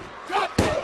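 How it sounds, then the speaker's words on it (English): A heavy thud as a wrestler is slammed down onto the ring mat at a WWE No Mercy 2016 match, one sharp impact amid crowd noise and commentary. "Orton slams him down, and Ronnie Garvin yes, stopped."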